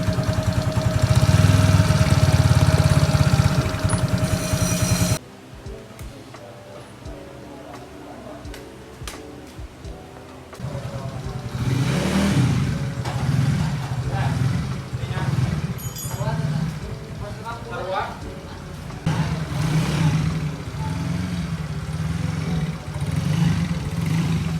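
A Yamaha Mio J scooter with a 59mm bore-up engine and upgraded CVT on a test drive, loud buzzing engine drone that drops off, then rises again in uneven revving bursts, with a person talking over parts.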